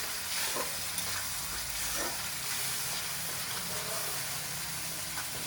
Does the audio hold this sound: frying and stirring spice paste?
yes